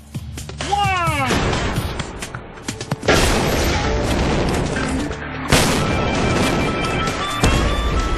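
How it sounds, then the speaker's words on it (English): A car blown up in a real-world explosion stunt, heard as several loud booming blasts and crashes with a descending whistle early on, followed by sustained rumbling and debris noise; no talk. "it came to the real-world explosion"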